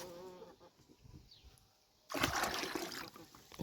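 Warm water with potassium permanganate is poured into a small bath for a rabbit, a brief splashing gush after a quiet stretch.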